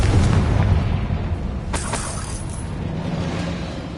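A Confringo fire spell explodes in the Hogwarts Legacy video game, a loud booming blast with crackling bursts that rumbles on throughout the few seconds.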